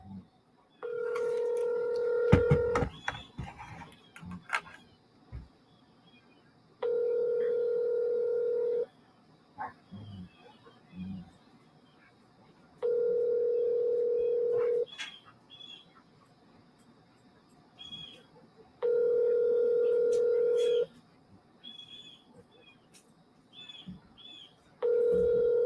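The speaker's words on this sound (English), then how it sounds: "It's dialing." Telephone call being dialed and ringing out, with four long steady ring tones spaced evenly after a burst of dialing beeps at the start, loud and close with faint background noise between rings.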